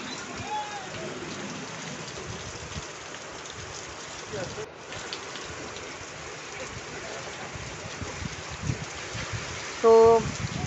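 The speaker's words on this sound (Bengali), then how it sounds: "তো অন্ধকার থাকতে থাকতে দেখো বৃষ্টি চলে এলো" Rain falls during a Baishakh-season storm as a steady, soft broadband hiss that continues throughout, with a brief tonal sound near the end.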